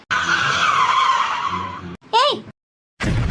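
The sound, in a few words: car speeding past with tires skidding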